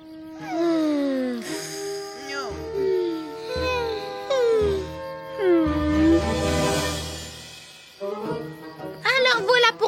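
Cartoon puppies whimper and howl in a run of sliding, wavering cries that rise and fall one after another, close and fairly loud over a steady musical backdrop, with a cluster of higher yelps near the end.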